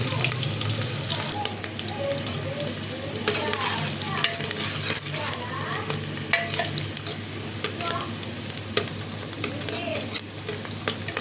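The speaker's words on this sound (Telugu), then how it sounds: "ఇప్పుడు నూనె కాగింది. ఉల్లిగడ్డ వేస్తాను." Chopped onions hit hot oil in a home kitchen pan and fry with a steady, loud broadband sizzle, stirred now and then, continuing without a pause and no voice over it.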